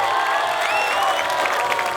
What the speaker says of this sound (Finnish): Täytyy antaa kaverille kuitenkin aplodit,